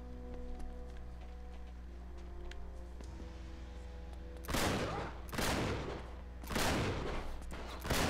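Bursts of gunfire from the video game Uncharted 3, three loud broadband volleys arriving in quick succession after a few seconds of quieter game ambience with a steady low hum.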